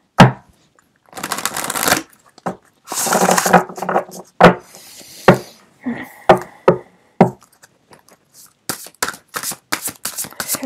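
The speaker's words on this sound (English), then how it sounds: "One more shuffle." Tarot cards shuffled by hand in repeated bursts of riffling and flicking, with sharp taps and knocks between them, close up and fairly loud, with almost no talking.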